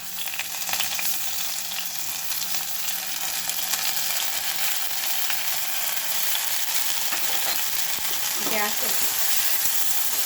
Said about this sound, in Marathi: आपल्याला ही जी मुगाची डाळ ही तांबूस रंगाची येतपर्यंत आपल्याला भाजून घ्यायची आहे